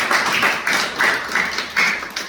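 An audience claps in welcome as a speaker is invited on at an ARK DeFAi event. The claps come as a close, uneven patter of separate hand claps with no voices over them.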